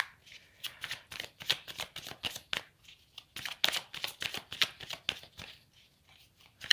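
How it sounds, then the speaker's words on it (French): Tarot cards are drawn and handled from a deck in a quiet room: a run of quick, close papery flicks and snaps in an uneven rhythm, fairly soft, with no talking. "Je prends encore 2 cartes."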